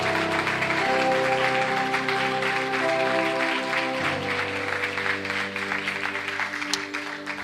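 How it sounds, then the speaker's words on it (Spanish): A church congregation claps along under sustained musical tones, a steady, fairly loud patter of applause that gradually thins toward the end. "denles aplauso al Señor"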